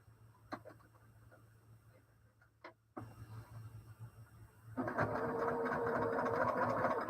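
A home sewing machine starts after a few quiet clicks and runs steadily, a close continuous mechanical whir with a rapid ticking rhythm that grows louder toward the end.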